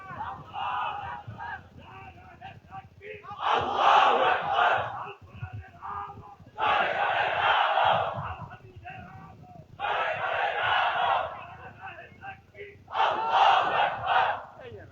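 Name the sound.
crowd shouting takbir (Allahu Akbar) at an Islamic gathering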